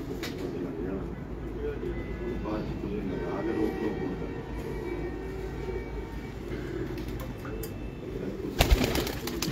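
Pigeons coo softly on a Multan rooftop, their low calls sitting under steady background rumble and chatter, with a brief clatter near the end.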